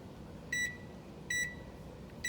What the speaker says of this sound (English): let's go to the stove and we're gonna turn it on